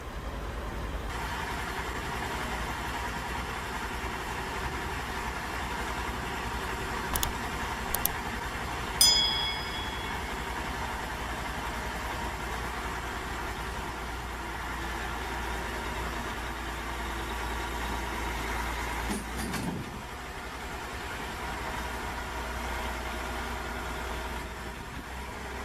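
A John Deere tractor engine runs steadily at a low rumble in the distance, alongside heavy transport and oversize trucks, with a few faint clanks and knocks over the drone.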